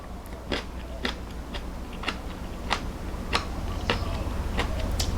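Crunchy bites into crisp Japanese pickled cucumber, about ten sharp crackling snaps spaced roughly half a second apart over a steady background hum, close and clear.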